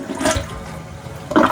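A toilet flushes loud and close in a short whooshing gush of water, with no talk over it.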